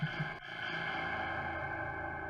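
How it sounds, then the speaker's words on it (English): A boom sound in Scratch with an echo effect applied: a brief hit at the start, then a sustained, ringing, processed tone that lingers for about two seconds, with no speech. "So if you add like an echo effect,"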